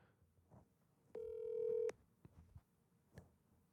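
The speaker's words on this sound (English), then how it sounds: "He sent me to voicemail. I'm calling him again." A telephone call being placed again, heard as a single steady electronic tone of under a second over faint, quiet background noise.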